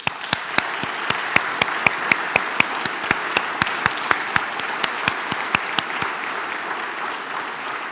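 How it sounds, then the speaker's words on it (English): An audience at a game development event claps for its speakers in a steady, loud round of applause that runs the whole time, with individual claps distinct and sharp. "I would like to give one more round of applause to all our speakers."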